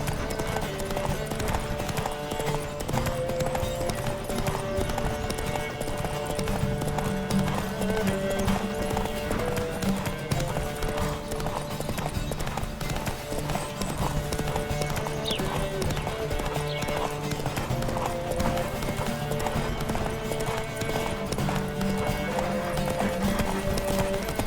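Steady clip-clop of a horse galloping in a race in The Witcher 3: Wild Hunt, continuous and fairly close under a constant wash of game music and ambience, with occasional voices.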